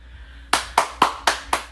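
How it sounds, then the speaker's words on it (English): Five sharp hand claps ring out in an even, steady rhythm, each crisp and close after a brief quiet pause, with no voice over them. "Hand clap, let's give a hand clap."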